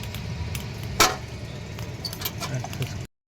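Hotel room keys and an access card are handled up close, giving a sharp jangle of metal keys followed by lighter clinks and rustles.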